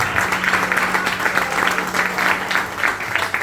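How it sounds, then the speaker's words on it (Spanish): Church congregation applauding during a Spanish-language sermon, dense sustained clapping with a rhythmic pulse, loud and close, with a low steady hum beneath. "Vamos a darle fuerte ese aplauso al Señor."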